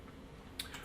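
A command being typed on a computer keyboard for a Cisco network lab, a few soft, quick key clicks near the end over a quiet background hum.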